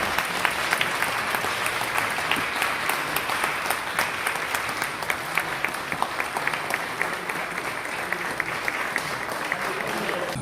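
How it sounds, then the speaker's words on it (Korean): A church assembly applauds steadily and evenly throughout a regional presbytery meeting, a dense continuous clapping from a sizeable room with no pause. "박수 주시고요"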